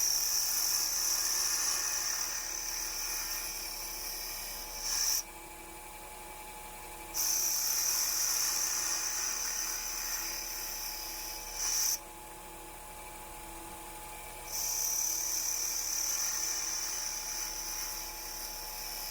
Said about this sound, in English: You hear how soft that blade is against the wood there.